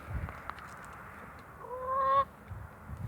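Poultry call from a flock of red hens with a rooster, a single loud harmonic honk-like squawk rising and then cutting off over quiet low rumbling background.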